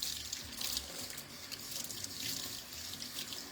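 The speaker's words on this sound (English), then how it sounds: "I'm going to get it wet now, and I'm going to show you guys that I'm running all that egg right down the drain" Running tap water rinses egg off a net scrubber and down a kitchen sink drain, a steady close splashing flow that continues throughout without talk.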